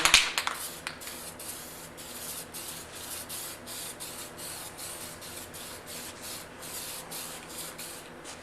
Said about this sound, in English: shoot a coat of guide coat over top of this whole thing